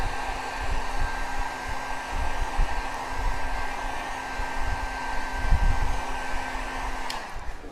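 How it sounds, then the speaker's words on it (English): A heat gun blows steadily and loudly while drying metallic paint, giving a constant airy roar with a fixed motor hum that cuts off abruptly near the end. "Put a heat gun to it."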